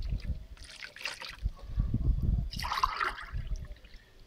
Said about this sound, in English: you just let it in a bowl, and then you add two more glasses of water